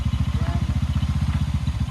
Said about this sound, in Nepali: कस्तो भइरहेछ राइड स्कुटरको